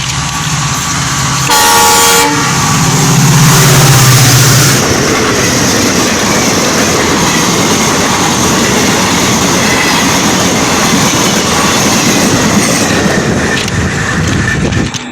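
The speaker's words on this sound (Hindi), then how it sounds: "सामने ट्रेन आ रही है।" A train roars close by at night, with a horn blast near the start, then a loud steady rumble of wheels and carriages passing continuously, no voices.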